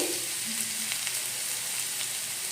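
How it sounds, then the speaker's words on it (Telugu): Cumin seeds, finely chopped ginger and green chili frying in hot oil while a radish paratha is being made, giving a steady close sizzle with faint stirring and no talk. "ఆయిల్ హీట్ ఎక్కింది జీలకర్ర వేసుకుందాం"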